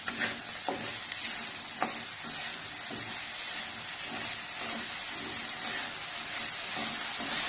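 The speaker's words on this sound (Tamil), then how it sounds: "எல்லாத்தையும் போட்டு நல்லா வதக்கிக்கலாம்" Small onions with salt sizzle and fry in a pan, a steady crackling hiss with occasional stirring scrapes, close and continuous with no talking.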